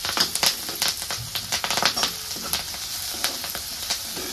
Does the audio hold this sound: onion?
yes